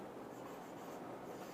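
A term written by hand during a biology class on the cell wall makes a faint, steady scratching stroke that runs for a second and a half, alone and without speech.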